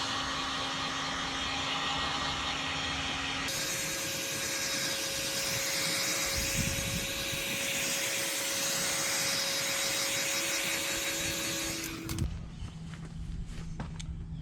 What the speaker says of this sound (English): Use my heat gun. Start getting it pliable, work it into place.